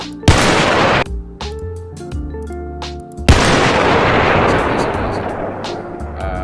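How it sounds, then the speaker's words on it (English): Gunfire from a suppressed weapon in the Roblox ACS game system, with two sharp reports about two seconds apart, each trailing into a decaying tail, loud and close with no voices. "This is the sound with a suppressor."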